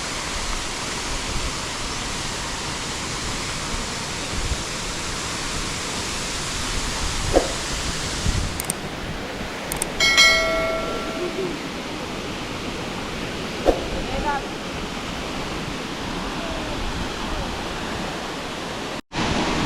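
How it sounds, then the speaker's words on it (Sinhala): Bambarakanda waterfall, the tallest in Sri Lanka, running strong and throwing up mist, produces a steady broadband roar heard from near its base, with a few faint clicks and knocks over it. "මේක තමයි බඹරකන්ද දියඇල්ල."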